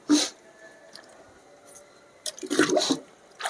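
Water from a water lily tub is poured out in a few brief splashing bursts, near and fairly loud, with quieter gaps between them and no talking.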